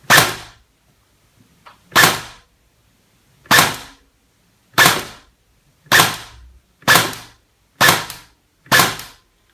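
Eight sharp, loud shots from a Bolt BRSS heavy recoil rifle, fired one at a time at uneven intervals of roughly one to one and a half seconds, each crack decaying quickly, with no talking.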